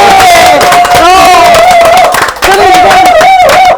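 A studio audience at a climate justice talk show claps and cheers loudly, a close, dense roar of hands with whoops and shouting voices over a sustained held tone.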